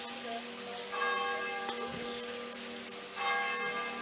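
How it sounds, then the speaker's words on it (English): Church bells ring out in a few resonant strikes on Rue de l'Horloge in Saint-Tropez, moderately distant, their tones lingering over soft ambient noise. "we can hear the church bells ringing as well"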